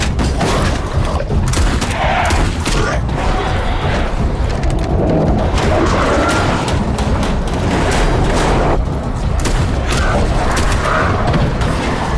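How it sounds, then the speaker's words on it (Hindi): Dense, continuous barrage of loud movie gunfire and booming blasts, with bursts overlapping throughout and no pauses. "गोली चलाओ।"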